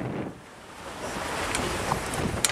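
Rough ocean water and wind roar steadily around a sailing boat at sea, a broad, continuous wash of waves and gusts with no voices.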